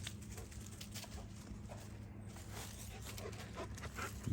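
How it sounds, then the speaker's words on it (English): Faint barking from a livestock guardian dog far off down by a river, heard as soft intermittent yelps over quiet outdoor ambience. "Who are you barking at?"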